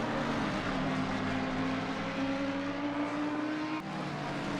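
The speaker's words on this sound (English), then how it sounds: "Lamborghini and the McLaren." A Lamborghini and a McLaren race on a South African circuit, their engines a continuous droning roar with steady high whining tones that rise slightly, heard from a distance with no break in the noise.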